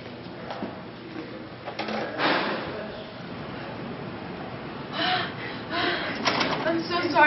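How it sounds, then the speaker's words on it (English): Students breathe heavily and gasp as if they had just run to class, a series of breathy bursts at moderate volume with faint voices around them. "Let's walk in heavy breathing in class"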